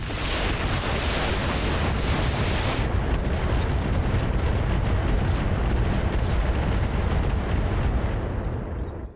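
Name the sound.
mech weapons firing in RogueTech BattleTech video game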